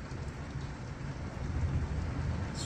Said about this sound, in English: Massive thunder and lightning storm.